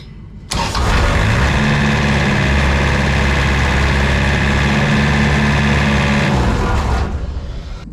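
An engine cranks and catches, then runs loud and steady close by for several seconds before cutting off abruptly, leaving a brief fading tail.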